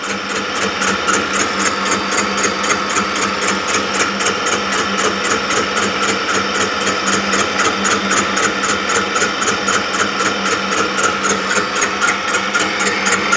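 A milling machine skims a tractor cylinder head, its cutter chattering in a fast, steady rhythmic whirr close by, loud and continuous with no voices.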